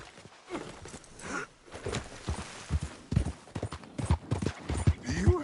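Horse hooves clip-clop in Red Dead Redemption 2, mixed in among game voices and ambient sound, with a character speaking throughout.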